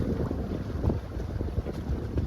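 A sailboat moves through a light breeze of about 7.7 knots off the Seattle coast near Elliott Bay, with steady wind buffeting the microphone and low rushing water along the hull, no voices.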